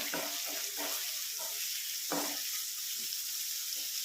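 Ginger and chilli fry with popped mustard and fennel seeds for a Kerala breadfruit stir-fry, a steady close hiss broken by several uneven stirring scrapes against the pan.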